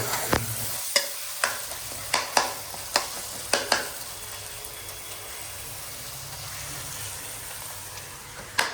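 Dal fries in a pan on high flame with a steady sizzle, while a series of sharp stirring knocks and scrapes sounds close by and then falls away to continuous frying.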